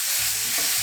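Ground beef frying in an oiled stainless steel pan, a dense, steady hiss of sizzling heard close up with no talking.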